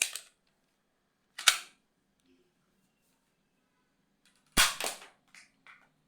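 Three sharp, snappy pops from a modified X-Shot Kickback toy dart blaster, spaced a few seconds apart, each followed by a brief rattle, in an otherwise quiet room.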